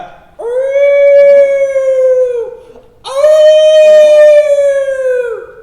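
A person imitates a dog howling. There are two long, loud, tonal howls close to the listener, each holding its pitch before tailing off, with a short gap between them.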